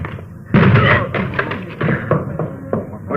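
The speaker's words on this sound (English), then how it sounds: "Door's locked. Let's hit it." Police officers force a locked door in a restored old-time radio crime drama, a run of heavy thuds and bangs that start loud and repeat unevenly, with muffled voices underneath.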